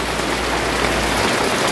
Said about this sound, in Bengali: এইদিকে দেখো বেশ ভালোই বৃষ্টি এসছে হঠাৎ করে